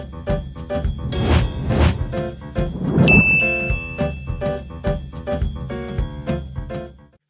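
An outgoing phone call rings while waiting for the other side to pick up, heard as a loud, bright chiming ringtone melody of repeated bell-like notes that fades out near the end.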